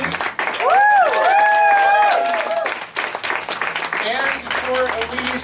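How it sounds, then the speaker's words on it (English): Audience applause for a reader at a university MFA reading showcase, with a steady wash of clapping under overlapping talking voices near the start that fades into chatter and speech. "Another round of applause for Katie."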